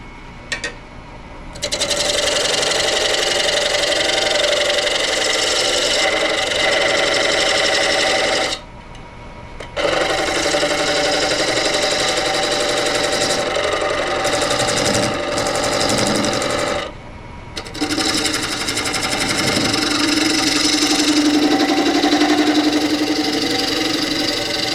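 A wood lathe spins steadily while a tool cuts a tenon. A loud, continuous whirring drone with a rough chatter is broken by two short pauses, heard up close with no talk.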